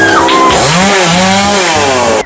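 A chainsaw roars loudly and steadily, its engine pitch dipping and rising as it cuts down a tree, running nonstop until it cuts off at the end.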